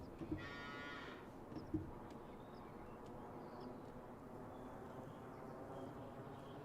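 Low, distant cow moos from a farm in Farming Simulator 25 video game, faint and sparse over a quiet ambient bed.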